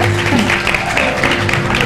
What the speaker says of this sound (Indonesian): tepuk tangan dulu buat Nadia.